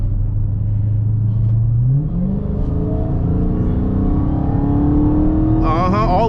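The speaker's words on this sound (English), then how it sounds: "All I hear is engine and whine." A 2023 Dodge Charger Hellcat Jailbreak rumbles loudly from inside the cabin, its engine rising steadily under hard acceleration as a thin supercharger whine climbs with it and a gear change breaks the pull partway through.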